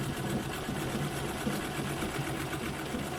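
A White Rotary treadle sewing machine runs continuously during free motion quilting, a dense, even mechanical whir and rattle, close and steady, with no talking.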